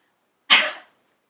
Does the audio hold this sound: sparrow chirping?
no